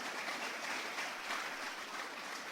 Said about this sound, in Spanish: Denle una ofrenda de aplausos al Señor.